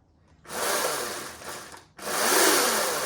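A Ryobi cordless chainsaw motor whirs up sharply, holds, dips briefly to near silence, then revs again to full speed, a close, loud electric whine with variable pitch.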